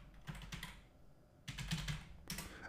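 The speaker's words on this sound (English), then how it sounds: "we're going to type in HTTP and then hit return or enter on your Mac or PC" Fingers type on a computer keyboard in three short bursts of quick, close clicking separated by brief pauses.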